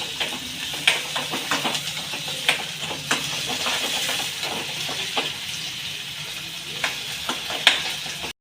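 Chopped tomato frying in a home kitchen pan with a steady loud sizzle and hiss, broken by scraping stirs and small clinks, close, with no talking.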